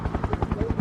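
A helicopter in a video game gives a brief, rapid rotor chop, evenly pulsing blade thumps over a low engine drone, close and steady.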